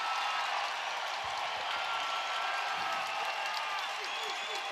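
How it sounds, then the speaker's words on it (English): Ice hockey crowd at a Jacksonville Icemen versus South Carolina Stingrays game erupting in a loud, sustained roar of cheering that fills the arena without letup. "And the crowd is absolutely going ballistic"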